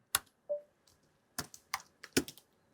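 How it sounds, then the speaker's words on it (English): Keys tapped on a computer keyboard, including presses of Shift and Enter, give several crisp, close clicks in irregular bursts with short gaps, and no voice is heard. "When you press Shift and Return or Enter in your keyboard, it will find the word for you."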